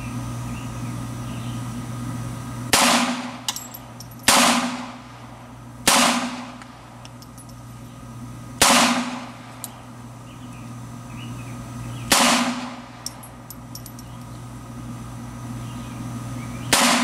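Six sharp .22 pistol shots from a Beretta U22 Neos, fired outdoors at a target, crack out at irregular intervals over several seconds. Each shot is loud and close with a short decaying tail, and a steady low hum sits underneath.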